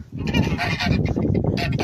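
A goose honks loudly and close by, a dense run of repeated harsh calls near a new nest box, with no voices.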